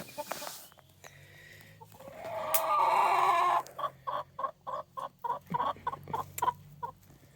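Backyard chickens in a coop cluck in soft, steady repeated notes, with one louder squawking call in the middle, heard fairly close and alone.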